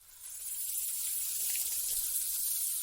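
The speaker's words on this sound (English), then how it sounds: "he would suck up water from the river with his trunk, then spray it all over the anthill." Water spraying and splashing from an elephant's trunk, a steady broad hiss that swells in and holds, fairly close, with no voices.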